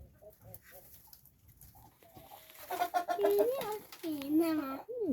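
Hens cluck and squawk close by, with a voice chattering over them in the first half before the clucks grow louder.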